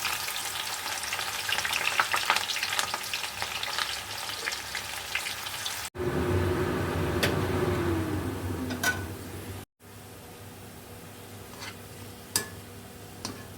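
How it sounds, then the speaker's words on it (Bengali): Thinly sliced onions fry in hot oil, a dense steady sizzle with occasional stirring clicks, the frying softening a little after a brief break partway through. "এবার আমরা যে দুটো পেঁয়াজ আগে কেটে রেখে দিয়েছিলাম পাতলা করে, সেটা আমরা বেরেস্তা করে দেবো।"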